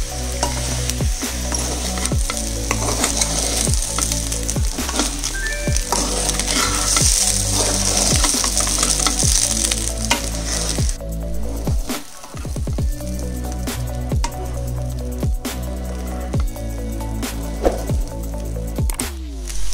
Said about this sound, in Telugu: chilli sauce, vinegar, soya sauce వేసి ఒకసారి మిక్స్ చేసుకుందాం